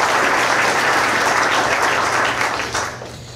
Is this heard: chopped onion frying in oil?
no